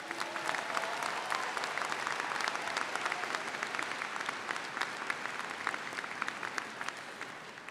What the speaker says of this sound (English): Please join me in a final round of applause and appreciation for our student leaders.